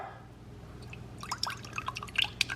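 Watery Campbell's Chunky Spicy Steak & Potato soup pours from a can into a bowl, a quiet run of drips and splashy trickles that grows busier near the end, heard alone and close.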